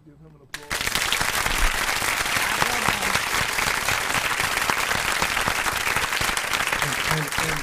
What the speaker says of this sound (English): I just want to give him a shout, give him an applause